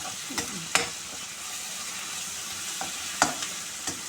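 Onions and tomatoes sauté in a pan for varagu rice upma, giving a soft low sizzle with a few sharp scrapes and clinks of stirring, close and fairly quiet, with no talk.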